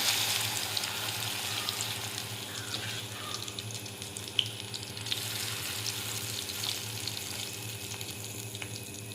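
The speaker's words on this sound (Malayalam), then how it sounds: "ഇനി നമുക്ക് ചൂടായ എണ്ണയിലേക്കിട്ട് ഫ്രൈ ആക്കി എടുക്കാം" Batter frying in hot oil in a home kitchen, giving a steady close sizzle and crackle with faint tap-water-like hiss, no talking over it.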